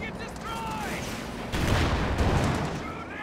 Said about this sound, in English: H.E. Sherman missing its shots badly.